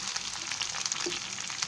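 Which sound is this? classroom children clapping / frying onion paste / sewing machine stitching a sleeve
frying onion paste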